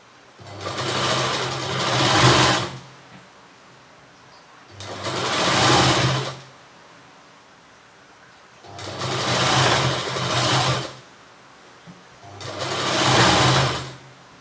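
A sewing machine stitches a double seam on a garment sleeve in four steady bursts of a few seconds each, whirring loud and close with short pauses between runs.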